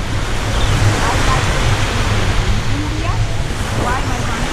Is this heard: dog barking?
no